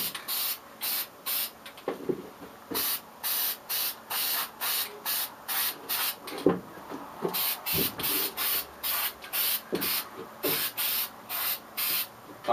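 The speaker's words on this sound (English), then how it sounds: "Okay, painting the sides now." Spray paint applied to the sides of a lion model in a series of short, regular hissing bursts, close and fairly loud, with faint handling noises between sprays.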